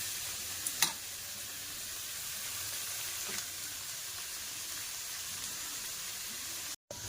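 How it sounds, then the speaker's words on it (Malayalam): Okra, onion and green chilies sauté in a pan with a soft, even sizzle and a few light clinks of stirring near the start; no one speaks. "അപ്പം നമ്മുടെ വെണ്ടയ്ക്കായി ഉള്ളിയും പച്ചമുളകും നല്ലോണം വഴന്നിട്ടുണ്ട്."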